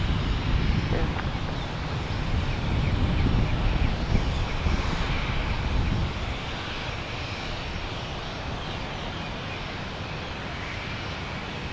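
A jet airliner takes off at Fort Lauderdale airport, a broad roaring rumble, loudest early on and then easing to a steady distant drone, with wind buffeting the microphone.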